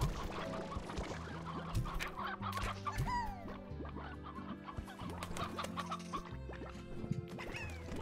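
Chickens in the video game Slime Rancher cluck busily, with layered clucks over a steady game music bed.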